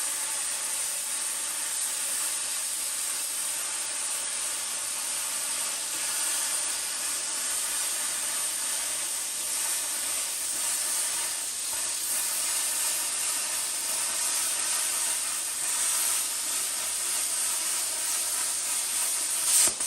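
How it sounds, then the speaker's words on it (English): Bestarc plasma cutter slicing through metal on compressed air, a steady broadband hiss and rush that holds evenly for about twenty seconds, close and fairly loud, with no talking. "Maybe this time I'll make another cut before I change it"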